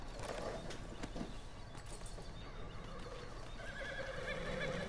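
A horse whinnies in the Red Dead Redemption 2 game soundscape, with hoofbeat-like clip-clops and steady background noise throughout.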